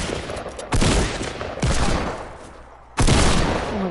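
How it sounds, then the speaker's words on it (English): Three loud, booming hunting-rifle shots in a video game ring out close and alone, spaced irregularly, each with a rumbling decay. "I'm gonna snipe him. It's a hunting rifle."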